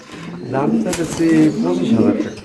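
Bombay and Jacobin pigeons, a female among them, give soft low cooing that rises and falls across the whole stretch, close by, with people talking over it.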